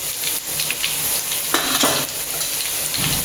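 Onions and green chillies fry in oil with chilli powder, giving a loud continuous sizzle broken by a few sharp stirring scrapes against the pan, close up and without speech.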